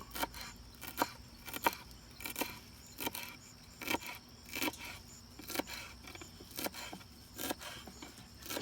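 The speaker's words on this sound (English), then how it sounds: "Now we're going to cut up our dill." Fresh dill, parsley and a small red onion are chopped on a board, a quiet, close, regular series of knife taps and crisp cuts with short pauses between strokes; no talking.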